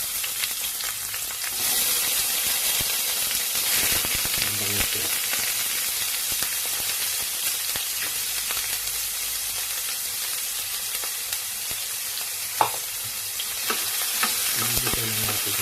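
Onion and ginger sauté in a pan with a loud, continuous sizzling hiss that runs the whole time, with faint stirring scrapes and a single sharp knock near the end, and no voices.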